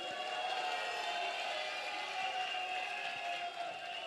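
Audience applauding at a Côte d'Ivoire political gathering, a sustained faint wash of distant crowd clapping and cheering, even and continuous throughout.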